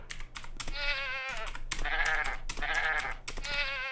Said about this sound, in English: This is just a regular goat death.